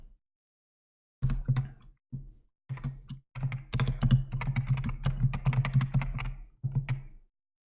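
Computer keyboard keys clatter in quick bursts of typing with short pauses between, close and clear, while code comments are written for a Godot 3.3 game project; no talking.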